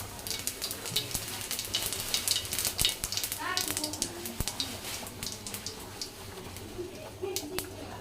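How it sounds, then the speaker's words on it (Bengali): Cumin seeds dropped into hot oil for a tempering for vegetable dal: a steady, close crackling sizzle with scattered sharp pops throughout. "যে তেলটা গরম হয়ে আসছে, এখন দিয়ে দেব জিরা"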